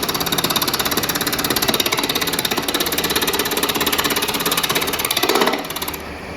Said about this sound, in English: Little bevel rubbing cut coming this way.